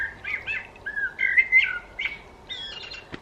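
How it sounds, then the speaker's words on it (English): A bird chirps and tweets in a home garden, a run of bright, clear calls in quick bursts over a faint outdoor background, fairly close and with no talk. "we seem to now have a bird in the garden, which is not going to shut off"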